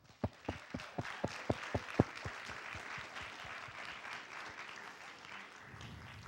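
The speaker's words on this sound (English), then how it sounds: "let's give your parents a round of applause" An audience at a winter evening gathering for homeschooling families claps for the parents, opening with a few sharp, distinct claps that quickly merge into steady, moderately loud applause lasting several seconds, with no talking.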